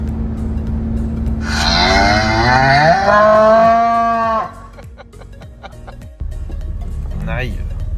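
A person imitates a cow with a long, drawn-out moo that slides downward in pitch. It rides over a steady engine hum from a ride-on mower, with a brief high squeak near the end.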